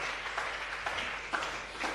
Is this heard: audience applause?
yes